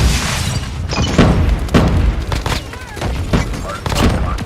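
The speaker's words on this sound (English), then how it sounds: "Grenade out." Thumping blasts and booms from a grenade exploding in the mobile shooter game Call of Duty Mobile, several heavy hits over a few seconds amid gunfire, loud and close, with some voice in the mix.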